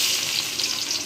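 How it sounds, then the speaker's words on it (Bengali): Onions frying in hot oil in a cooking pot, giving a steady bright hiss and crackle that stays close and even for about a second, with no talking. "তেলটা গরম হয়ে গেছে, এখন আমি এর মধ্যে পেঁয়াজ দিয়ে দিব।"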